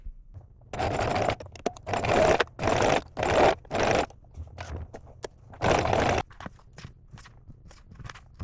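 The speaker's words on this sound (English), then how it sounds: "now I will stitch along the edge of the corset at the width of the presser foot, which is about 7 millimeters" A sewing machine stitches bias tape along the edge of a corset at presser-foot width, running in several loud bursts of rapid stitching separated by short pauses and light handling sounds.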